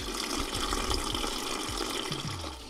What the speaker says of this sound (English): The water tank carries about 8 gallons, and it'll run like this for over 10 minutes.